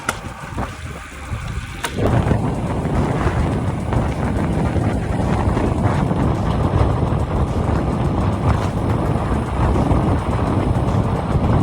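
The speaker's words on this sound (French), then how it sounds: "je me suis pris quelques rafales là dans la descente" Steady roaring wind gusts buffet the microphone while cycling downhill on a Van Rysel RCR Pro road bike, loud and continuous after a quieter opening, with a low rumbling rush of fast motion.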